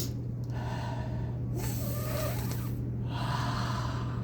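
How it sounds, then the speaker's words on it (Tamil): A person takes slow, deep breaths in and out, about two full cycles, each breath airy and close against a low steady hum. "நல்லா உள்மூச்சு எடுத்து வெளிமூச்சு விட்டு"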